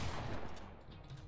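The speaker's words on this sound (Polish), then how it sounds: "Jest coś takiego jak podwójny strzał. Shotguna." A double-barrel shotgun fires in a creative-mode video game race, a quick, rough burst of gunfire that is quiet and distant, with no talking over it.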